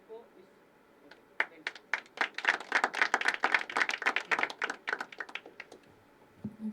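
Audience applause at a poetry open mic at The Habitat, a dense burst of clapping that swells and fades over several seconds, with brief talk around it.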